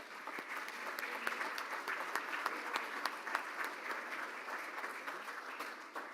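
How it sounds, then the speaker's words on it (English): Steady applause from a seated audience at a Rotary Club meeting, many hands clapping at an even, moderate level for several seconds. "please stand so we can thank you and give a round of applause"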